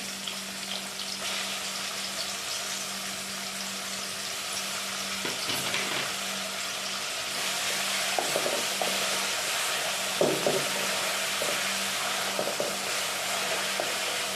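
Chopped onion and tomato frying in oil in a home kitchen pan, a continuous moderate sizzle with occasional stirring scrapes and knocks, growing slightly louder midway, no speech.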